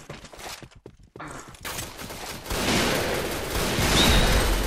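Shotgun fire in the shooter game Point Blank: a burst of rapid gunfire builds into dense, continuous loud blasts, with a few soft footstep-like taps at the start.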